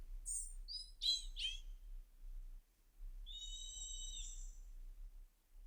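Clay whistle shaped like an eagle, ocarina-like, gives several short bright chirping, sliding trills, then a pause and two longer steady high whistled tones, played close and alone.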